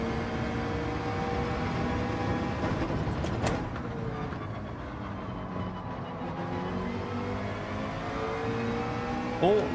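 McLaren race car in Gran Turismo 7 with a steady, loud engine drone and shifting harmonic tones throughout, a couple of sharp bursts midway, running continuously without talk.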